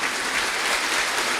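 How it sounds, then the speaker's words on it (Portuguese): A church congregation applauding loudly during a Portuguese-language sermon, a dense, steady wash of clapping through the whole short moment with no voices standing out. "Aplauda Jesus bem forte."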